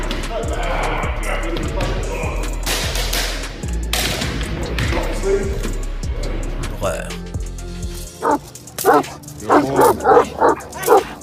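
Large Turkish mastiff guard dogs bark in a series of loud, separate woofs toward the end, after a stretch of dense mixed sound with talk and music-like layers.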